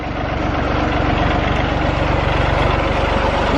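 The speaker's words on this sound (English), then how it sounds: "Let me get away from the tractor." Tractor engine idling nearby on an off-grid home build site, a steady loud low chugging rumble with an even rapid pulse throughout.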